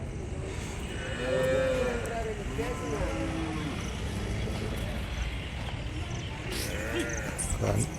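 Cattle at a morning cattle market in Kundarapalli give several low, drawn-out moos, some overlapping, amid a busy outdoor crowd with people talking throughout.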